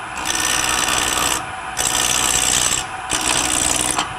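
Steady rasping strokes of sandpaper on a wooden tri-cornered box, three long passes with brief pauses between them, close and loud.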